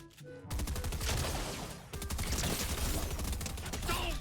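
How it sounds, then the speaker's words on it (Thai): Automatic gunfire in Fortnite Chapter 3 Season 2 bursts in after a short quiet start and continues in loud, rapid volleys with a brief lull midway, using the game's new shooting sound. "เสียงยิง มันเปลี่ยนใหม่ ด้วยนะ"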